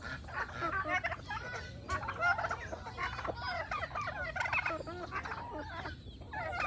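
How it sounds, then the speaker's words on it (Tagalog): A flock of backyard chickens waits to be fed coconut pulp, a dense, continuous chorus of clucking and gobbling calls heard up close with no talk. "Gusto niyo to, mga chicken?"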